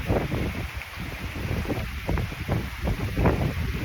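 Wind gusts outdoors with a constant rough roar and buffeting against the microphone, loud and unbroken for the whole stretch.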